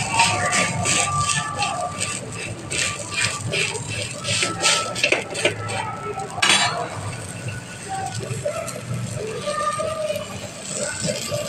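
A spatula clatters and scrapes against a frying pan as food is turned over, giving a busy run of metallic clinks and rattles up close for several seconds, with a brief louder clatter partway through.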